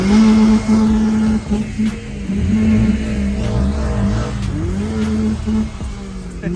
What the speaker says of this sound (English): Few cars here in the background.